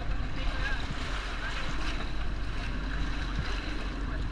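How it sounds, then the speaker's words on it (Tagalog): Strong wind roars and buffets the microphone in a constant, loud rush, with a faint wash of water underneath. "Ngayon yung malakas na hangin."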